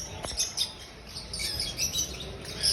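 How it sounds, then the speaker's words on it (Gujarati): Colourful parrots chirp and tweet continuously in a busy aviary-like setting, many high overlapping calls at moderate volume with steady background noise. "કલરના પોપટ"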